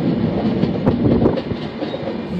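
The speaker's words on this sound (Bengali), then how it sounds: "এই যে ট্রেনটা একটা সাপের মতন বেঁকে যাচ্ছে" A train rumbles steadily along a curving track, a close, loud rolling clatter with no voices.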